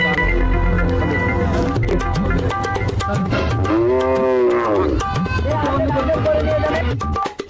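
A cow moos loudly amid noisy surroundings at a cattle market before Eid al-Adha, with crowd chatter and other voices around it.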